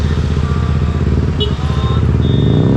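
A stalled motorbike's engine rumbles loud and continuous, with a faint higher whine mixed into the drone throughout.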